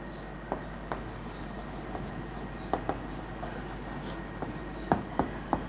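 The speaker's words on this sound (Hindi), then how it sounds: "यहाँ पे मैं लिख देता हूँ" A pen or marker writes out a matrix proof in a lecture, with scattered scratchy strokes and taps close by against a quiet room hum, no talking.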